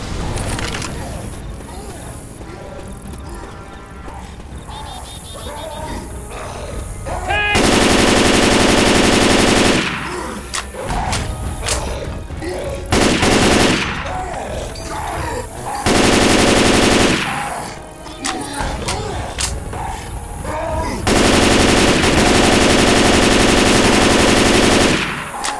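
Video game gunfire in a gnome-themed game, with dense bursts of machine-gun fire in several long loud stretches, broken by quieter gaps of game sounds and occasional voices.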